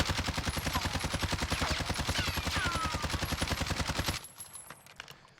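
A CR-56 AMAX rifle in the Warzone video game fires a long, rapid burst of evenly spaced shots for about four seconds, then stops suddenly, leaving only faint noise.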